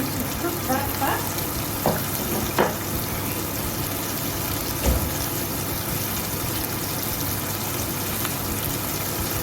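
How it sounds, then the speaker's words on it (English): Wet fish fillets fry in a hot pan with a loud, steady, close sizzle that runs unbroken throughout, with a few faint bumps underneath. "When fish is cooking, don't disturb it."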